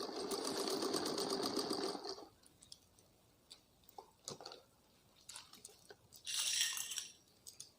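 A sewing machine runs in a fast, steady burst for about two seconds while stitching lace onto an umbrella frock, then stops; soft handling clicks and fabric rustles follow, with a second short whir near the end.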